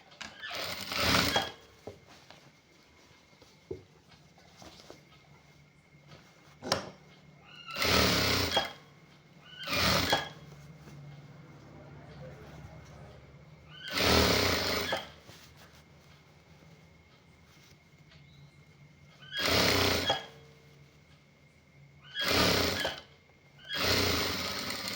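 A sewing machine stitches a three-button half-sleeve shirt in loud, close bursts of whirring that start and stop repeatedly, with quiet gaps between runs.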